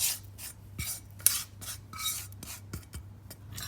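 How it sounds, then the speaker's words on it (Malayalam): Tamarind pulp being stirred with fried coriander and mint leaves for a pickle, a series of soft rhythmic scraping and rubbing strokes of a spoon against the pan, close and fairly quiet, with no talking. "ഇനി ഇത് നന്നായി ഇളക്കി"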